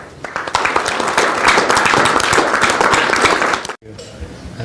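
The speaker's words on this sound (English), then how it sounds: "So let's welcome him with a big round of applause." An audience gives a long, dense round of applause to welcome a speaker at a morning event, steady and loud for nearly four seconds before cutting off abruptly into quieter room sound and a voice.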